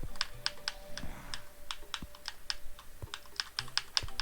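Quick bursts of keyboard key clicks sound while a name is typed during a Terraria session, with rapid, uneven taps close and clear and no voices.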